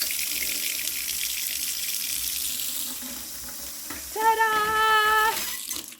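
A tap runs on water newly restored by a well repair, with hissing flow that shifts for a few seconds before a gurgling, tonal rush of water bursts out briefly near the end.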